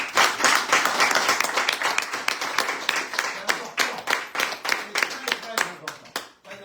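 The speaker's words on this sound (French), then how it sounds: "Et juste pour ça, on les applaudit." An audience in a live bistro radio show claps enthusiastically, dense applause that thins into scattered individual claps and fades out near the end.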